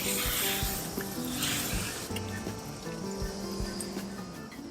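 Water is wetted across a metal Stations of the Cross panel crusted with old polish buildup, making close trickling, splashing and dripping sounds with faint ringing tones.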